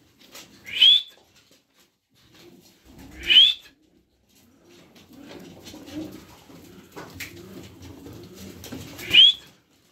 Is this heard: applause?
no